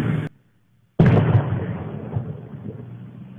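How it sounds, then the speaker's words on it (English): Two explosions blow apart a brick mailbox near a residential street, caught on a home security camera: a sharp burst, a short silence, then a loud, heavy blast that leaves a long rumbling tail. "Two explosions can be heard."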